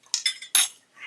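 A metal spoon standing in for a whisk clinks against a bowl while mixing batter for lemon ricotta pancakes, four or five quick bright clinks close up in about a second.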